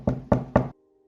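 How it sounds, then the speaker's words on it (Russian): Three firm knocks on a door, evenly spaced and close, then silence. "Она постучала еще раз"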